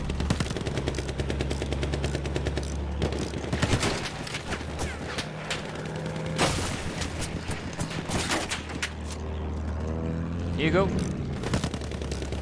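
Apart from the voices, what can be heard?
machine gun fire from video game Battlefield 1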